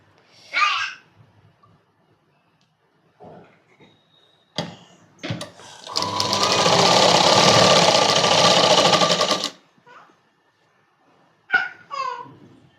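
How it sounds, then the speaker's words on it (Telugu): A sewing machine stitches a child's night dress in a loud, steady run of about three and a half seconds, with short bursts of speech before and after it. "ఇంకొక సైడ్ ఫ్రంట్కి కాబట్టి మనం ఈ విధంగా మలుచుకొని కుట్టుకోవాలి"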